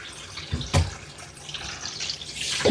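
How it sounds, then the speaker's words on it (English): Running water rinses Davis shampoo off a head during a skunk odor wash, with soft continuous splashing and a few louder gushes and drips near the end. No voices are heard. "let's rinse your top of your head off"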